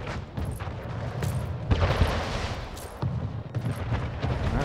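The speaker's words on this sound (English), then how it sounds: "Alright, firing all their cannons over there." Warships in Anno 1800 fire cannon volleys at island defenses, a rapid run of loud booms and cracks with overlapping blasts and no voices.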